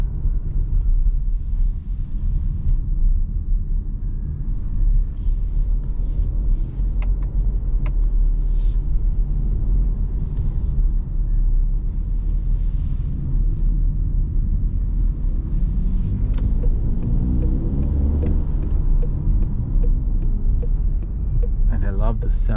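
A 2026 Opel Mokka facelift hybrid 145 drives at night in sport mode, giving a steady low engine and road rumble inside the cabin with a faint rise in pitch toward the end.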